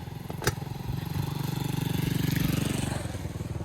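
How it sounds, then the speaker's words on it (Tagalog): A motorcycle engine idles outdoors with a close, steady pulsing putter; a sharp knock is heard near the start, then the chugging rhythm continues evenly with no talk. "Motor tayo."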